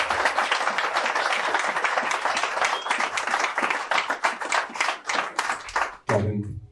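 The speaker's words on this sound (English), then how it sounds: "I would like you all to give a real round of applause." Audience applause at a homecoming celebration evening, a dense, steady wash of many hands clapping that carries on for several seconds before tapering off near the end.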